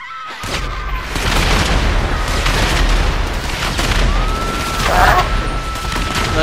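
Rapid video game gunfire crackles in dense, continuous bursts with booming hits, loud and close for the whole stretch, with no voices over it.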